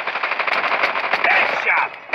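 Rapid automatic weapon fire from Call of Duty Mobile runs dense and steady throughout, loud and close, with game voice chatter mixed in.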